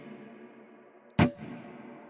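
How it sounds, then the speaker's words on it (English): Guitar strings struck once through a Strymon BigSky hall reverb ring out in a single sharp burst, its tail fading gently over a quiet background hum. "This is what the guitar sounds like when I just strike the strings."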